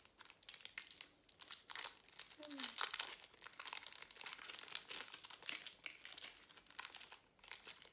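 Wrapper of a keto peanut bar, similar to a Reese's-style snack, crinkled and torn open up close, with quick irregular crackles over a few seconds at low level.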